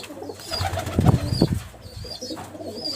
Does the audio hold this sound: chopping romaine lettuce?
no